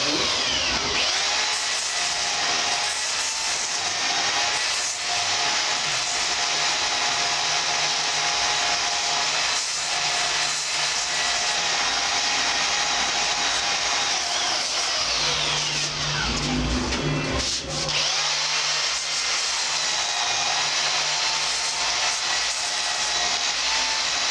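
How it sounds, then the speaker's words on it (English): A belt sander runs steadily on a wooden bed leg during woodworking, a loud continuous whine with a brief change in pitch near the end, with no talk over it. "you use the end of the belt sander to try to help you down inside"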